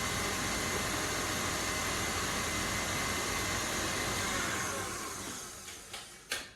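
Electric mixer beating butter on its fast setting for a topsy turvy cake, a steady loud whirring drone that holds for several seconds, then winds down and tails off with a few brief clunks at the end.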